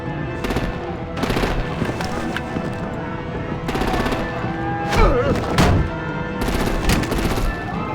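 Bursts of automatic gunfire and heavy artillery in the Batman: The Enemy Within video game, loud rattling volleys in repeated clusters with a few thudding blasts between them.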